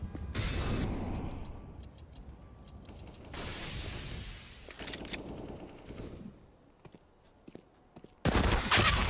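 Rapid AK rifle fire in CS:GO, sharp repeated bursts and single shots with mechanical clatter, loud and close, with a brief quieter stretch before a final burst.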